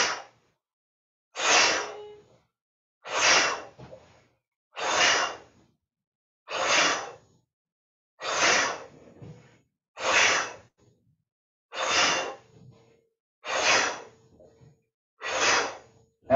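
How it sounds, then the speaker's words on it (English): Deep breaths drawn in and pushed out forcefully during a yoga breathing exercise, about ten strong whooshing exhales repeating at a steady rhythm roughly every second and a half, close and loud with quiet pauses between. "make a fist, take a deep breath in."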